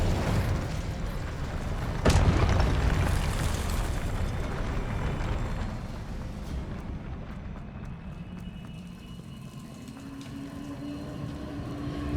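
Expelliarmus spell cast in the Hogwarts Legacy video game, a heavy rumbling magical burst with a sharp crack near the start that fades into a low sustained whoosh, loud and alone without speech.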